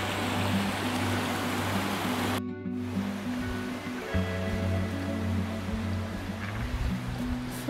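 Steady rushing water of the Adams River flows close by, a broad continuous wash with a low hum running underneath, with no voices.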